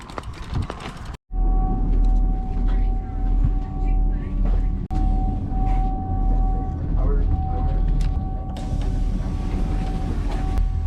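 Steady rumble of a train ride, with a low continuous drone and a sustained tonal whine over rattling carriage noise, a brief dropout early on, loud and close throughout.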